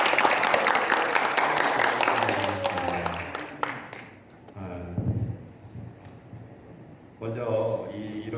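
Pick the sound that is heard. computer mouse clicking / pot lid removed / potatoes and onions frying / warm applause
warm applause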